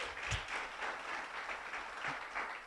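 A church congregation claps together, a soft, steady wash of applause heard from a distance and held evenly throughout without any voices.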